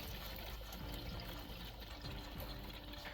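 Water running into a filter system tank at an off-grid wilderness trailer, a steady close trickling and pouring wash that carries on without a break.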